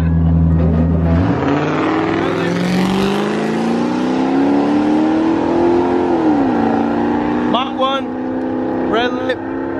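Ford Mustang GT and Mach 1 racing, a V8 engine revving hard and climbing through the gears as it pulls away, loud and close, with a shift and short tyre chirps near the end.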